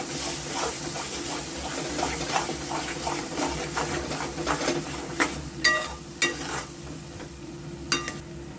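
Ground masala sautés in hot oil for a chicken gravy, hissing in a steady sizzle with occasional scrapes and sharp clinks of a spoon against the pan.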